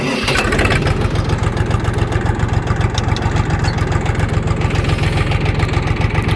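Warm Kentavr 244SX mini tractor with a KM385VT engine and about 40 hours of running catches right away and settles into a loud, close, rapidly thumping diesel idle that stays even for several seconds, with no talking.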